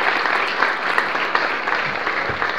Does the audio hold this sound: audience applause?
yes